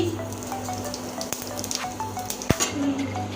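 Cumin seeds sizzle and crackle steadily in hot mustard oil in a pan, close up, with scattered small pops and one sharp clink, no talking.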